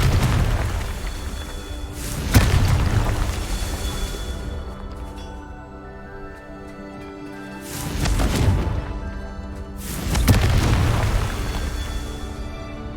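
Confringo spell blasts in the video game Hogwarts Legacy: three heavy booming explosions with rumbling low-end tails, the first around two seconds in and two more close together later, loud and full with no talking.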